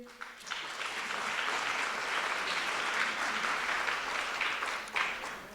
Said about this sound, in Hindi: तो आइए एक तालियों का दौर इन सब गणमान्य हस्तियों के लिए